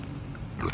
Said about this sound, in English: There's the piggies.